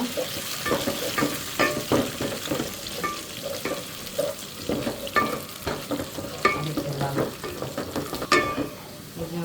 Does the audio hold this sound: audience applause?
no